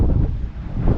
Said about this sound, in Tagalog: ang struggle talaga natin, hangin.